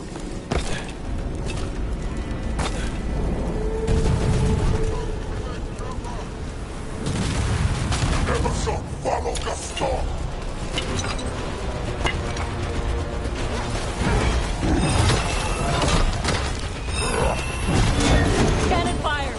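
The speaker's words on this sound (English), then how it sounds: "Cannon fire! Get clear!" Heavy cannon fire in the game Dragon Age: The Veilguard, loud booms and crashing impacts layered over clanking mechanisms and battle noise across a long, dense stretch, with talking mixed in.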